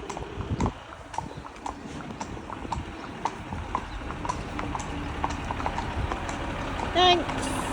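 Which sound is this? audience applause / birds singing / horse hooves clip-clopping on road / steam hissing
horse hooves clip-clopping on road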